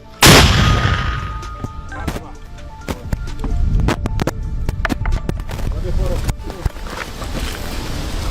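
One loud, close gunshot opens the scene, followed by sharp cracks and thumps amid constant commotion and shouting voices.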